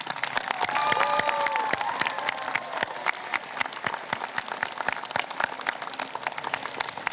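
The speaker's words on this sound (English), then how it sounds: "Please join me in also giving them a round of applause." A completion ceremony crowd at Collins Career Technical Center applauds the teaching staff, a full room of steady clapping that stays fairly even throughout, with a few faint whistles early on.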